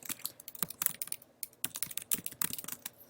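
Fingers tap on a computer keyboard, producing quick, irregular clicks in short flurries with small gaps. The keystrokes are close and clear, with no speech.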